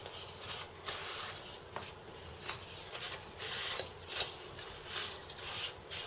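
A cloth or fingers wipe dust off model rocket fins from a Mach I kit, making soft repeated rubbing swishes in a loose back-and-forth rhythm, close and fairly quiet, with no talking.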